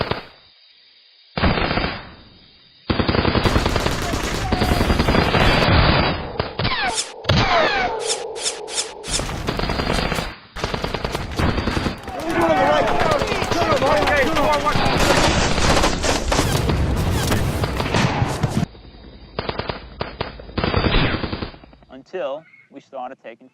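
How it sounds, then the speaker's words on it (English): Heavy combat gunfire with machine-gun bursts and rifle shots roars loudly and almost continuously, interrupted by a few brief silences, in a wartime engagement. "they reported heavy enemy fire"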